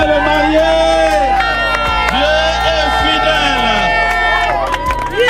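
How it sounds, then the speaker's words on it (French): Guests at a religious wedding cheer and acclaim the couple, a loud crowd of voices with whoops and shouts under strong music. "acclamons avec vos acclamations"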